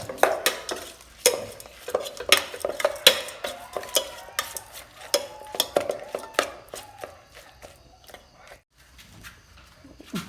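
Rat curry stirred in a pot with a little oil, a spoon scraping and clinking against the metal in quick irregular strokes with faint sizzling, close and alone.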